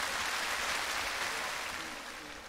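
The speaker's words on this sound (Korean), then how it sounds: "박수 주시고요" A brief burst of audience applause at an outdoor Korean TV singing contest in Hangang park, Ttukseom, Gwangjin-gu, Seoul, welcoming a contestant. The steady, fairly distant clapping fades slightly toward the end.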